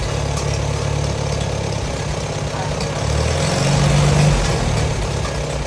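An engine running on choke after a throttle linkage adjustment gives a steady, loud, close hum that swells slightly partway through.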